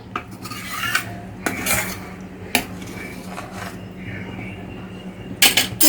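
Metal spoon scraping the skin of simmering milk from a pan's sides while making basundi, sharp irregular scrapes and clinks at close range over a low stove hum.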